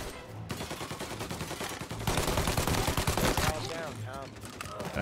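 Gunfire in Mafia: Definitive Edition, a third-person story shooter, with a steady stream of rapid shots getting louder in the middle, faint voices mixed in.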